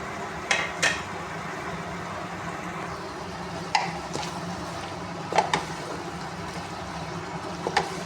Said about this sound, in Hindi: अब इसको थोड़ी देर जो है ना फ्राई करूँगी मैं